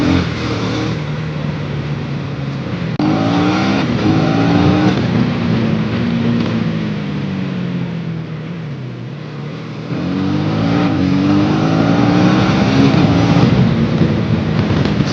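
A motorbike engine, just cold-started, revs up and down in several swelling and falling pulls, loud and close, with no talking over it.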